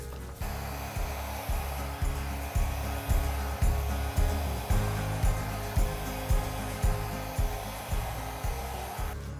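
A hair dryer blows acrylic paint across a canvas for an autumn foliage painting, a loud, steady close-up roar that swells and dips in a regular pulsing rhythm throughout, with no talking.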